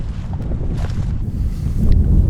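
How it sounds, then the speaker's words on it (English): Strong wind buffeting the microphone on a river island campsite, a loud, continuous low rumble with gusty swells and no speech. "The wind is really whipping right now"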